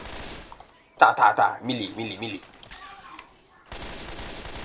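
Loud, rapid bursts of gunfire from a weapon in Left 4 Dead 2 crackle in quick succession, surrounded by excited talking before and after.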